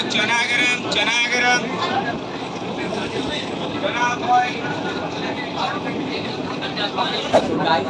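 Rumbling rail noise rolls on steadily as a train moves into a station in Birbhum district, West Bengal, with voices talking over the rumble and a few clanks near the end.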